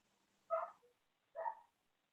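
Two short muffled barks from pet dogs in another room, spaced about a second apart, faint and otherwise quiet.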